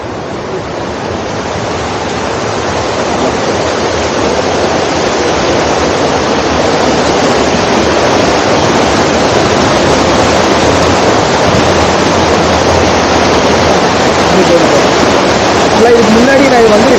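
Keezhanthoor waterfall in Kanthalloor, Munnar, roars as a loud, constant broadband rush of falling water, close and steady throughout.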